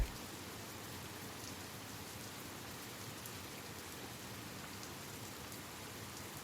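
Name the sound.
heavy rain falling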